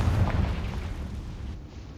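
A Confringo blasting spell in Hogwarts Legacy goes off as a single heavy boom up front and rumbles away into a fading tail.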